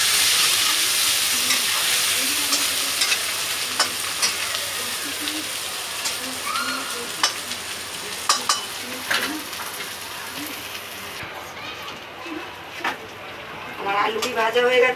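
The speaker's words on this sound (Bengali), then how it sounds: "এবার আমি আলু ভেজে নেব।" Potatoes fry in oil in a pan with a steady sizzle and crackle that thins out over time, punctuated by stirring clatter, as someone speaks over it.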